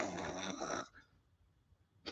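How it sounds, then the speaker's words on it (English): A loud snore rattles for under a second, followed by a quiet pause and the start of another breath, close and isolated. "Snoring."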